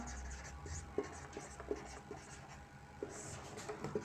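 Pen writing out a Class 10 maths solution on real numbers, with quiet scratchy strokes and soft taps recurring at irregular intervals, close and faint, with no talk over it.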